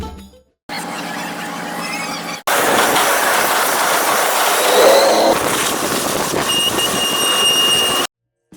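Shah Hussain Express passenger train running on the line from on board, a loud steady rumble of wheels and carriage rattle with clanking and squealing rising mid-way, continuous and close.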